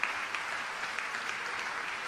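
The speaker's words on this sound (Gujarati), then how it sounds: "ખરેખર યુવાનો માટે ખૂબ તાળી વગાડો" An audience applauds a youth group at a spiritual gathering with dense, steady clapping from many hands, sustained and fairly loud for the whole stretch.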